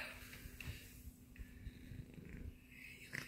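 A cat makes odd purring, snorting noises, a soft rough rumble with faint breathy snuffles, close and quiet for a few seconds.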